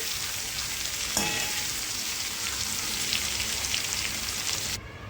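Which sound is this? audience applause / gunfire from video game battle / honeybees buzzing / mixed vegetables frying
mixed vegetables frying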